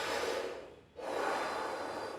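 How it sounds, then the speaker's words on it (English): Deep, hard breathing from a qigong breathing exercise, a forceful breathy rush of air that fades briefly for a short pause and then surges again, close and loud with no talk. "Now start breathing 20 times. Very deep, hard breathe."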